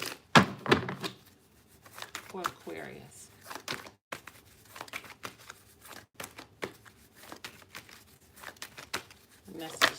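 A deck of cards is shuffled in short riffles and crisp snaps spread across the clip, close and clear, with someone speaking briefly at the start.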